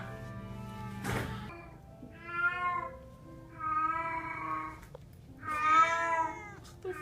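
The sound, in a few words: cat meowing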